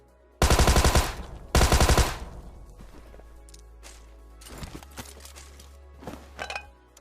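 Thompson submachine gun firing in PUBG Mobile, two loud close rapid bursts near the start, followed by quieter scattered game sounds and clicks, with no talking.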